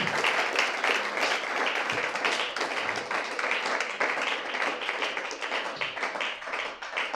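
A church congregation applauding at a pastor's sermon, steady and dense clapping from many hands that carries on throughout without pause, with faint voices mixed in beneath it.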